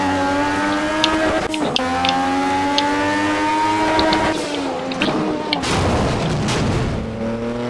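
Racing car engine in Project Cars grinding and failing to engage as a gear change is attempted, with loud revving tones, abrupt drops and harsh clunks, no talk.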